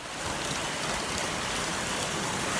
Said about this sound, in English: Look how heavy the rain!